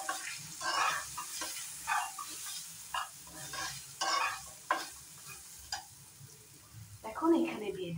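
Cashews and raisins frying in a pan while being stirred, giving repeated scraping and sizzling bursts. Faint background noise runs underneath.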